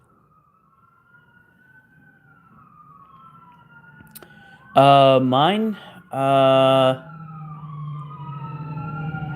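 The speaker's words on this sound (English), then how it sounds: "Something's going on out there. Looks like an ambulance." Ambulance siren from outside, rising in a loud wailing burst after a faint distant sweep, then a second sustained blast before fading; a voice speaks briefly.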